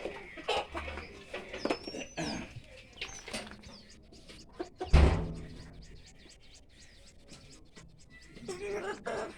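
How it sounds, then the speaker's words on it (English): Layer hens clucking and calling on an African poultry farm, a steady busy flock sound with a louder burst midway, with people talking over it. "we have a lot of layers chicken here"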